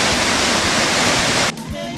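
Waterfall where two rivers meet on the Olomami, a loud, steady broadband roar of falling water, close and continuous, with a brief dip in level near the end before the rush carries on.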